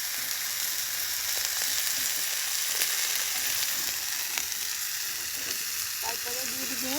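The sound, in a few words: oil sizzling in a cooking pan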